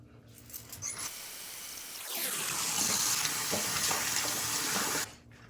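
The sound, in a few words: washing face with water at a sink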